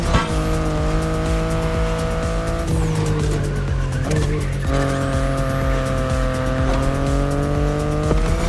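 BMW i8 hybrid sports car in The Crew Motorfest racing game, with a steady loud engine drone, shifting pitch as it accelerates and gears change, and tire squeal along the way; no talking.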